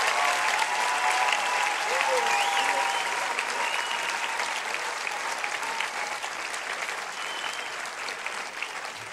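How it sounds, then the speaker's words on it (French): Church audience applauding a choir, loud sustained clapping from a crowd with voices mixed in beneath, steady throughout and easing slightly near the end. "On les applaudit encore une fois."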